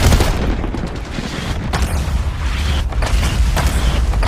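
A grenade blast in a first-person shooter game played on a RedMagic 10 Pro phone: a loud booming burst with rumbling low end and dense gunfire-like clatter continuing throughout, no talking.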